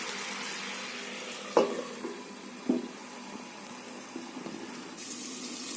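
Chicken pieces for butter chicken masala fry in a pan with a steady close sizzle, broken by two brief clanks of turning or stirring, with no talking.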